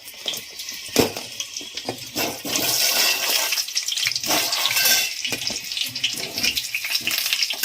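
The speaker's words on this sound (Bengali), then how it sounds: "এবারে এই তেলের মধ্যেই আমি আলুগুলো দিয়ে একটু ভালোভাবে ভেজে নেব।" Potatoes fry in hot oil in a home kitchen, giving a loud, close sizzle with sharp crackles and pops that grows denser after a few seconds and keeps going to the end.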